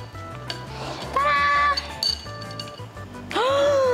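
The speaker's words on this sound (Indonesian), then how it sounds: "Coba aku mau coba masukin ke dalam es batu" Something clinks against ice cubes in a container, giving several bright, ringing knocks and taps up close, with a louder burst of clinking near the end.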